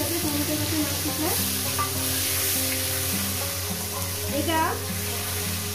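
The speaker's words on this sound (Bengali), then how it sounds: "1 থেকে 2 মিনিট এটাকে ভেজে নেব।" Chopped tomatoes with turmeric sizzling and frying in a pan, a steady close crackle with stirring scrapes and a short spoken word over it.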